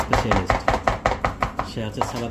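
A knife chops vegetables for a salad on a board in quick, steady strokes, about a dozen sharp, close cuts in a row.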